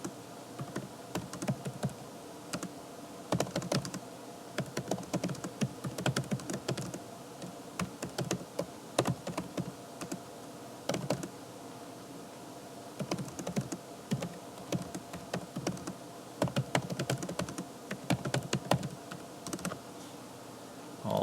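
Typing on a computer keyboard while filling in a math intervention spreadsheet: bursts of quick, close key clicks separated by short pauses, quiet and without voices.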